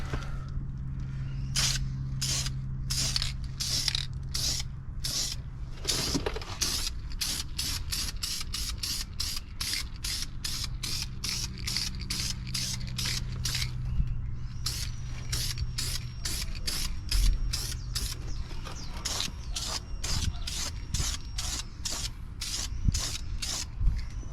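An old spray paint can hissing onto a Lexus ISF brake caliper on the car, in a long run of short, evenly spaced bursts, close and crisp, with a brief pause partway through and no talk.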